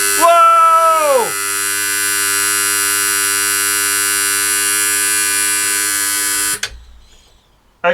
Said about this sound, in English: it did shut off when the alarm came on